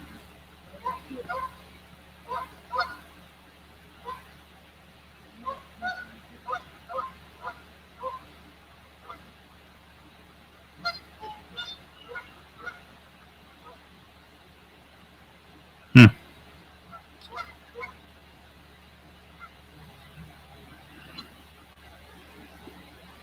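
Geese honk outdoors in scattered bursts of short, fairly faint calls against a quiet background, with one sharp loud knock partway through.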